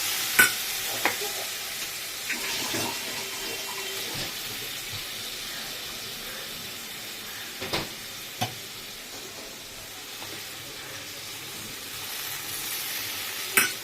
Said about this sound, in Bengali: এবার একটু ভালো করে এটা কষাবো